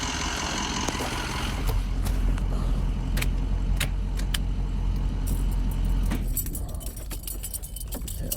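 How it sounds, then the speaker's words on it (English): Keys jangle and rattle close by, with a running truck engine idling steadily underneath, the jingling coming in irregular bursts before fading toward the end. "Bro's like messing with the keys."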